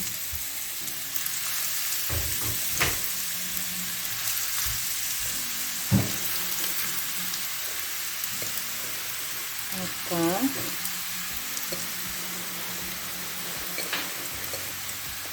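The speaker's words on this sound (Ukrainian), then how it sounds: "Розігріваємо добре пательню і викладаємо сюди наші овочі." Steady frying sizzle of courgettes and other vegetables filling a well-heated pan throughout, with occasional stirring clatters and a brief squeaky scrape near the middle.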